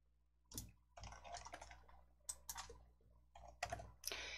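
Several light, quiet clicks of a computer keyboard key being pressed, spaced irregularly over a few seconds in a near-silent room while working in a Hangul document's cell border dialog.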